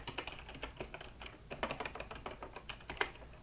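Fingers type on a computer keyboard in quick, irregular bursts of crisp clicks, close and fairly quiet, with a short pause midway and no talking.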